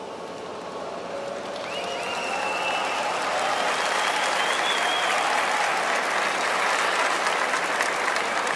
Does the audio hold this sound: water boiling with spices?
no